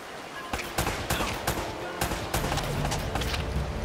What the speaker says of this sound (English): And they're shooting at me!